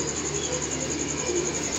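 Pigeons kept in a loft give soft, low coos, faint and continuous under a steady background hiss, heard without any speech.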